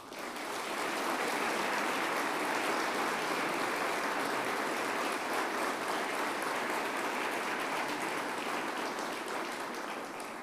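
Audience applauding for Guillermo Francos at a government cabinet gathering with President Javier Milei, a long, steady wash of clapping from a large crowd, sustained and even, heard from some distance without talk.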